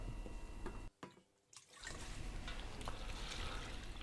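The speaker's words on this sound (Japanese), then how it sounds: "ボウルの底を触って砂を感じなくなるまで洗い続けてください" Morel mushrooms being washed by hand in a bowl of water to remove sand: close splashing and trickling water, briefly cut off before resuming steadily.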